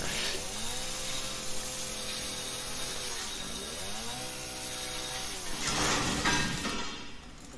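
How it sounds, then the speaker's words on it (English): A chainsaw in Resident Evil 7 roars continuously with a buzzing, revving drone that rises and falls twice, then surges louder near the end. "Oh no, I just broke my chainsaw."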